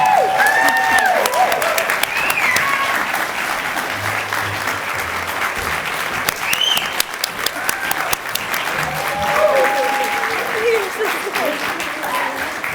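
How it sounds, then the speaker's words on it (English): An awards ceremony audience applauding loudly, dense sustained clapping filling the room for the whole stretch, with voices and whoops mixed in the crowd. "And please give your loudest applause to our own Beth Sepko Lindsay."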